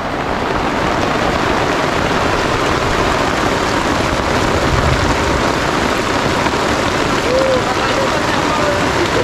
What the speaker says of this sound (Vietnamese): Trời mưa tầm tã phía ngoài luôn mà.